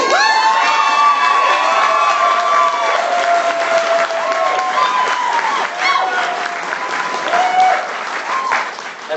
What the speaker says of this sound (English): you clap like you just won